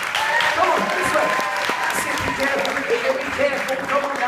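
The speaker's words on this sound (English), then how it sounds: "big round of applause" Live-show audience at Thorpe Park applauds steadily and fairly loudly throughout, a dense wash of clapping with crowd noise and voices mixed underneath.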